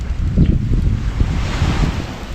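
Strong gusting wind buffets the microphone at a beach by the sea, a loud, uneven roar with surf washing underneath and no voices.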